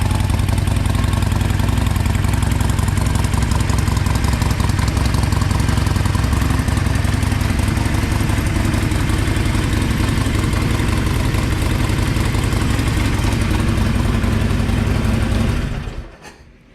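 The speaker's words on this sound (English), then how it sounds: "that is what the Iron 1200 stock exhaust actually sounds like prior to" A 2020 Harley-Davidson Iron 1200 motorcycle with its stock exhaust idles loudly and steadily with a deep, lumpy rumble for several seconds before cutting off at the end.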